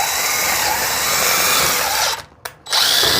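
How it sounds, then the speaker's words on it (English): A power drill bores a hole through a house wall during a mini split installation, grinding steadily and loudly for about two seconds, cutting out briefly, then roaring back on. "And drill a hole where you're going to have to use your hole saw on the other side of the wall."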